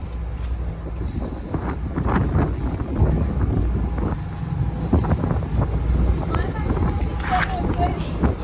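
Steady, gusty wind roars across the microphone on the deck of a ship travelling to Istanbul, with a low rumble underneath and faint voices and knocks now and then.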